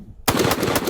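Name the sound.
Nemo Arms Omen 300 Win Mag rifle gunshot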